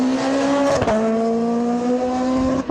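A Peugeot 207 rally car runs hard on a stage of the Rallye Lyon Charbonnières, its engine a loud, close, steady drone. A brief dip near the middle is likely a gear change.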